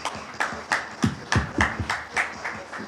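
An audience at a closing ceremony on Mexico's future agenda applauds the Ford Foundation, with several distinct, sharp claps coming in a loose rhythm at moderate level.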